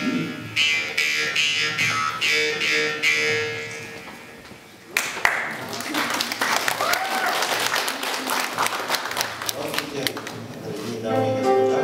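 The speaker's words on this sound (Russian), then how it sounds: "под ваши теплые аплодисменты приветствуем следующую пару" An audience applauds a couple being welcomed onstage at a couple-of-the-year contest in Yakutsk. Rhythmic clapping fades, a louder burst of dense applause follows, and music plays underneath.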